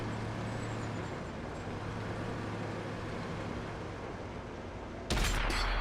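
A single loud tank cannon shot from a KV-5 in World of Tanks console erupts near the end, a sharp close blast breaking over a low rumbling engine and ambient battle noise.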